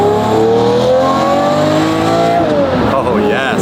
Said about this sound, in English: listening to that beautiful, naturally aspirated Italian V12